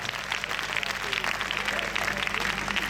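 A church congregation applauds and cheers in acclamation of Jesus Christ, a dense, continuous wash of clapping and voices filling the hall.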